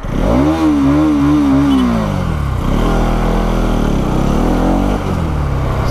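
Bajaj Dominar motorcycle engine revving hard close by, rising and falling in pitch through two or three throttle blips before settling back toward idle.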